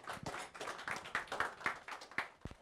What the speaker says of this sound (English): Can I get another clap?